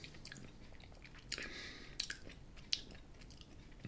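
Crunching on a thin, crispy homemade gingerbread biscuit: a few close, quiet crisp bites and chewing crackles over several seconds, with no talking.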